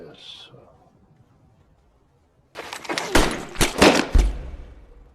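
Gunfire from the Korean war film 71: Into the Fire comes as a loud burst of rapid shots with heavy thuds, after a quiet stretch that holds only a faint brief tone at the start.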